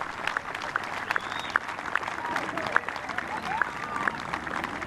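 A golf gallery at the final round of the 2014 South African Women's Open applauding a putt on the last hole, moderately distant, steady clapping with birds chirping over it.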